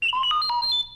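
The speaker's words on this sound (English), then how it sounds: "You will know it is time to turn the page when you hear R2-D2 beep like this." R2-D2 droid beeping from a 1983 Star Wars read-along record, a short run of bright electronic chirps and warbling tones, close and clear, marking the page turn.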